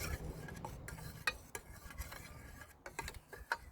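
Lye water stirred in an old stainless steel pot for soapmaking, giving quiet irregular scrapes and light metallic taps of the utensil against the pot, close and faint, with no talk.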